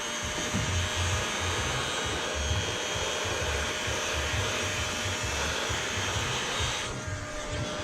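A heat gun blows steadily on a tight window gasket during a window tint installation, a continuous loud broadband whoosh with a low fan rumble that holds level throughout.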